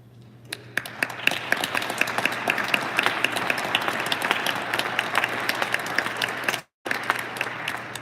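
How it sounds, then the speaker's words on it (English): An audience applauds staff members at a school board meeting held at East High School, dense sustained clapping from a roomful of people, loud and even for several seconds with a brief dropout near the end. "I thank you for the applause"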